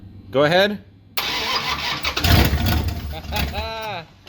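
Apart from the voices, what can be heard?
Mopar car engine starting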